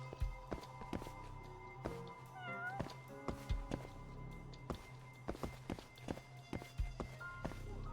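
Cat meows ring out in the Judgment video game, a short rising-falling mew near the middle, set against busy game ambience with footsteps and repeated sharp taps throughout.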